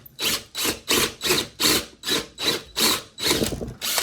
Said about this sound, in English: All the way through, you'll feel the drill jolt forwards just like that.